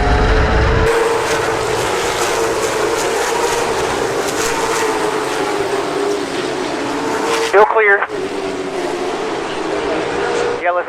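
Stock cars racing at Florence Motor Speedway on a big night, a loud, steady roar of many engines packed together on track, with a radio voice speaking over the din and a brief cutout near the end.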